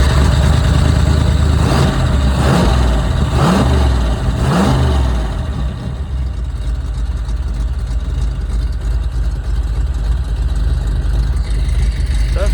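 Car engine cranked and started after the fuel pump is primed a couple of times, revving in several rising bursts early on before settling into a steady, loud rumble.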